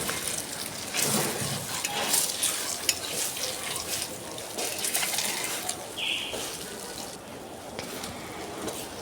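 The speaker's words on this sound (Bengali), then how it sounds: "এখন ডিমগুলো আমি ভেজে নেব।" Peeled boiled eggs frying in hot oil seasoned with salt and turmeric in a home kitchen, a steady close sizzle and crackle running throughout with faint stirring and small clinks.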